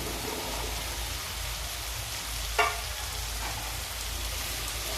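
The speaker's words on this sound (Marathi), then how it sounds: "आणि भोपळा पण चांगला परतून घेऊ" Pumpkin sautéing in a pan for a traditional dangar-style sabzi, a steady close sizzle with a soft scrape of stirring partway through.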